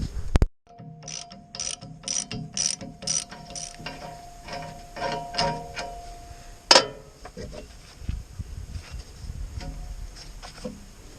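Rapid ratcheting clicks come in short bursts as four bolts are undone on a Hansa C21 wood chipper, close and mechanical, followed by clanks and rustling handling noise.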